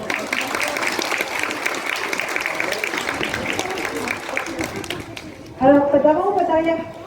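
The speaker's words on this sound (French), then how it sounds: "On peut l'applaudir." An audience at a sea lion show applauds Balou the sea lion, a dense wash of clapping for several seconds that fades out before a voice begins speaking.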